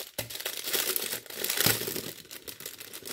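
A plastic pouch of diamond painting drills is handled and torn open, giving a close, quiet run of crinkling and crackling with a few sharper snaps.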